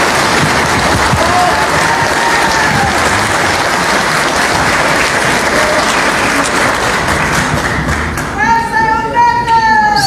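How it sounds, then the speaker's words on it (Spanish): Dense, loud applause from a large crowd greets Humberto Sánchez Sánchez at his swearing-in as governor of Cochabamba, continuous throughout with some thumps, and voices or whistles rising near the end. "Recibamos con este aplauso al hermano Humberto Sánchez Sánchez"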